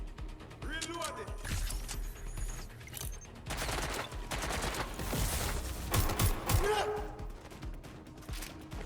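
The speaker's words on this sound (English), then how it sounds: "Reloading!" Weapon reload and gunfire in Watch Dogs: Legion, mechanical clicks and clatter followed by dense bursts of shots, continuous and fairly close with voices calling out amid the action.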